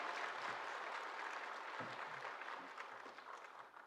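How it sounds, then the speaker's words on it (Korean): A church congregation gives encouraging applause at a Sunday worship service, a steady broadband clapping that holds through the whole stretch and fades slightly toward the end, with no voices over it. "격려 박수하겠습니다"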